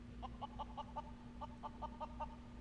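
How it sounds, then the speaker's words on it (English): The chicken Enkidu in Final Fantasy XIV gives a quick run of about ten short rhythmic clucks, faint against a steady low hum. "The chicken Enkidu walks up to him and flaps in front of him."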